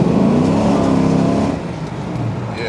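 A 6.0 LQ9 V8 swapped into an El Camino, with stage 2 cam and heads, revs hard and loud up close, holding a steady roar before easing off slightly toward the end.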